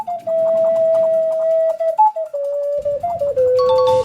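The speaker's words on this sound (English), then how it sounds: "Ocarina." An ocarina plays a slow melody in pure, breathy sustained notes that step between pitches, loud and close, with faint background hum early on.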